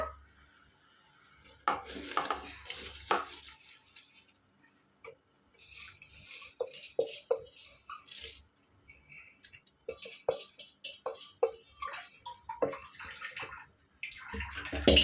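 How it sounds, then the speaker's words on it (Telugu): Rice is poured into boiling water in a cooking pot for bachelor-style chicken pulao, bringing splashing, pouring and the clink of a utensil against the pot in uneven bursts and pauses. "బియ్యం వేసేసుకుందాం ఇప్పుడు"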